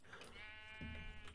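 Single sheep bleat in the Minecraft video game, short and faint, a quavering call alone with no talk.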